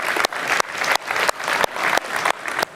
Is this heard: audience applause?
yes